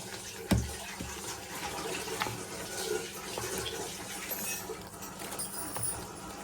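Hot milk pours in a steady, quiet stream with a soft hiss and faint splashes, close by, after a brief knock at the start.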